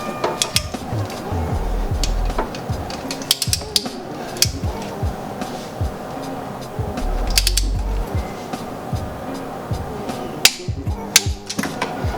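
A torque wrench tightens bolts on a BMW E30 engine during a refresh for turbo boost, giving repeated close ratchet clicks and metallic clunks in a steady workshop rhythm, with no voices.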